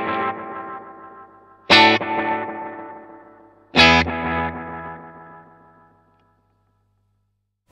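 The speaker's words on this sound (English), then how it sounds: "you kind of get a rhythmic effect of the two sets of delay repeats kind of fighting against each other" Electric guitar run through an ARDX20 delay stacked in series into a Delay Llama, two struck chords each followed by a thick swirl of overlapping rhythmic repeats that decay over several seconds, then silence.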